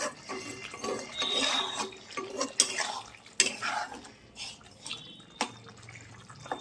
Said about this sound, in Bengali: আর এখানে দেখো ভাত আমি মার গালতে দিয়ে দিয়েছি।